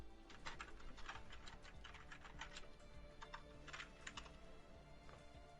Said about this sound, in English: Apologies for my clickety-clackety keyboard.